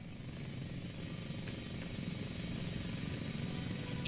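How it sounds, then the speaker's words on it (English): Drill running in The Invincible video game, a steady low mechanical rumble and grinding drone holding constant throughout, fairly faint and with no voices. "It's a drill!"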